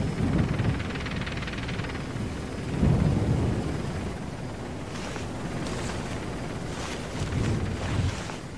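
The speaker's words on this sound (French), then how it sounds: "Hélicoptère de combat à 500 mètres au nord-est." A heavy, rumbling rotor drone with low booming swells, loud and continuous, from a combat helicopter in the video game Operation Flashpoint: Dragon Rising.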